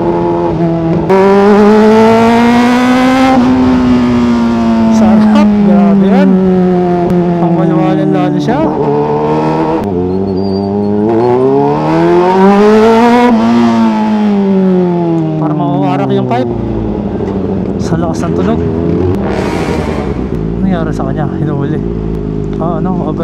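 Kawasaki ZX4RR motorcycle fitted with a full-system loud exhaust revs hard and close, its engine note rising and falling in long sweeping pulls with a raspy, high-pitched wail, loud throughout, with talk partly under it.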